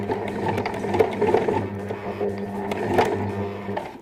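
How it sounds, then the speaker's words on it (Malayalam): A home sewing machine runs steadily, stitching an embroidery neck design with a continuous mechanical whir and rapid needle ticks, close up with no talk. "ഈ ചെറിയ സർക്കിളിൻ്റെ ഭാഗത്തുനിന്ന് നമുക്ക് സ്റ്റിച്ച് ചെയ്ത് വരാം"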